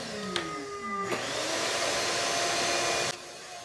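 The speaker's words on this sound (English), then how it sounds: "Don't you wish you could vacuum your cars out this fast all the time?" A vacuum cleaner runs steadily and loudly inside the interior of a 1979 Mercury Cougar XR7, with a hard click near the start and a shift in tone before cutting down near the end.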